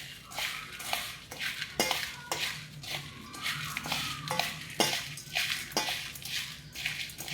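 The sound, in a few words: mixing bhel (puffed rice snack) in a bowl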